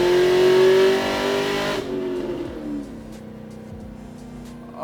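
A supercharged Pontiac G8 running on E85 rips hard under acceleration, its engine revving loud and close for about two seconds before dropping to a lower, steadier drone as it eases off.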